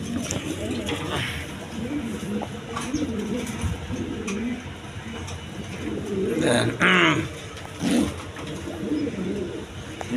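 A pair of Shirazi Lahori pigeons cooing, soft rolling coos and a few wingy flutters nearby, with people talking over them.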